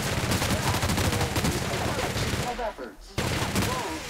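Rapid gunfire from a weapon in The Outer Worlds, loud dense shots rattling steadily with a brief lull before the firing resumes, mixed with game sound and some voice.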